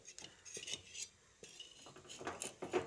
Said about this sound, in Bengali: এবার খুন্তির সাহায্যে খুঁচিয়ে পিঠেটা তুলে নিতে হবে।